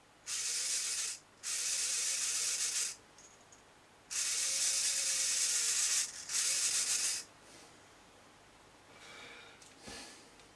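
Broad hissing scrapes in long bursts, two close pairs separated by short gaps, then quieter rubbing, as a brake rubs against the wheel of a locomotive being serviced.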